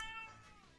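A pet kitten meows once in a short, clear, nearby call indoors during a game stream, with no talk over it.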